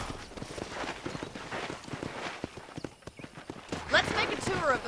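Horse hooves clip-clop steadily in Red Dead Redemption on a ranch, in a quick even rhythm under near-continuous talk. A brief whinny-like sound comes toward the end.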